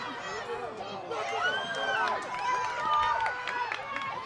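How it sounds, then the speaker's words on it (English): Crowd of spectators cheering and shouting at a boys' first-team school hockey match, a steady roar of excited voices and whoops with higher shrieks rising and falling, fairly close and sustained throughout. "We have an ecstatic crowd here."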